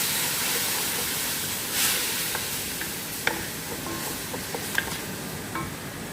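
Ground tomato poured into a hot pot for chicken kabsa sets off a steady, loud sizzling hiss, with a few faint clinks and stirring sounds over the continuous frying.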